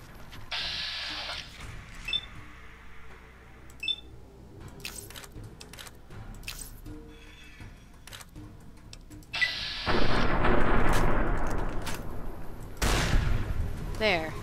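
A shotgun in Fallout New Vegas goes off in several heavy, loud blasts, with scattered thuds and clicks between them. Two of the blasts, late in the sequence, are long and booming.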